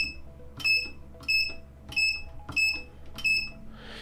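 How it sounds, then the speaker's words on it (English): Five sharp electronic beeps from a Vici VC8145 bench multimeter with a beeping fault repeat at a steady pace about every two-thirds of a second, close and fairly loud over a low background hum. "it beeped there a number of times"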